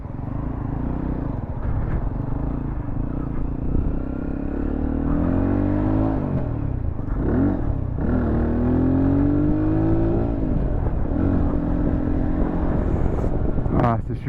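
A Zontes Scrambler 125 motorcycle engine rumbles steadily for several seconds, with revs rising and falling as it pulls off, close and fairly loud, while distant traffic sits underneath.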